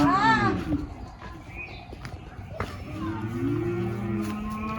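A weak cow on a farm lets out a loud, close moo with a rising then falling tone, followed by softer lowing and sustained calls while people talk and shout nearby.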